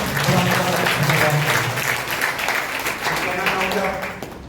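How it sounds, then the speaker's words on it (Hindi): A church congregation bursts into loud, sustained applause at a Hindi-language worship service, with voices mixed into the clapping throughout. "जोरदार तालियों के साथ"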